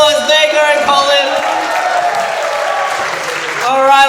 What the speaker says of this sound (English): Let's give it one more round of applause, Vega and Colin.